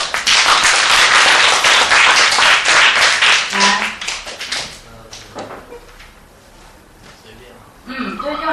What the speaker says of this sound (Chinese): 给他一点掌声, 快点。